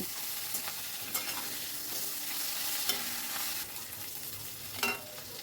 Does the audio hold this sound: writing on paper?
no